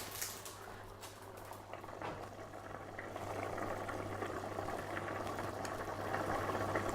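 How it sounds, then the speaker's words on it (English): Rice and water come to a boil in a pot, a soft, steady bubbling and pattering that grows slightly busier over a low background hum. "Just bring the water to the boil."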